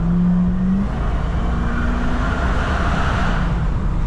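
A 2004 Jeep Grand Cherokee 4.7 V8 gives a deep, steady engine roar with a broad hiss layered over it, loud and close, holding constant without pauses.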